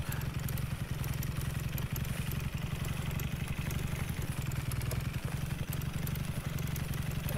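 Motorcycle engine in a farming video game, a low steady idling putter with rhythmic pulses, fairly quiet and continuous.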